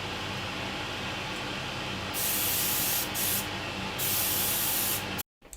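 An airbrush at heavy air pressure lays a protective gloss coat on a Revell 1/53 AT-AT model kit. A steady close hiss swells into several louder bursts of spray, then cuts off abruptly near the end.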